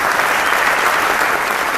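Crowd applause at a men's empowerment summit, a thick uniform wash of clapping heard alone at steady loudness for the whole short stretch.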